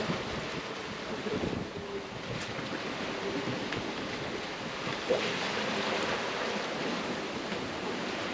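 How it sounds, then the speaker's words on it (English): Heavy ocean waves surround a sailboat during a Pacific crossing, a constant roar of rushing water and swell mixed with steady wind buffeting, and one brief splash partway through. "10-foot plus waves."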